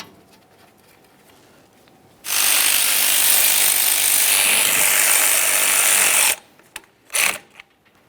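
A ratchet drives in the front brake caliper bolts on a 2013-2015 Chevrolet Malibu: a loud, continuous buzzing ratchet run of about four seconds, followed by two short, sharp ratcheting bursts, close up with no talk.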